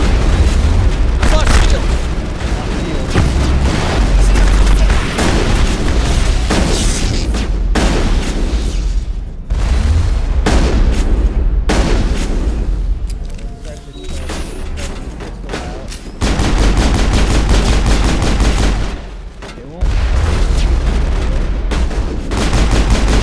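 Shotgun blasts in the video game Mass Effect during close-quarters combat against synthetics: loud, booming shots in quick succession over a dense roar of battle noise, with brief lulls between bursts.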